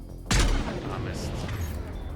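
A single loud, close gunshot from Mass Effect 3 cracks out sharply, then trails off into a lingering rumble and background game ambience.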